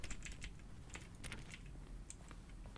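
Keyboard keystroke button sounds from the video game The Stanley Parable form a quick, steady patter of soft clicky taps, fairly quiet and up close, with no talking.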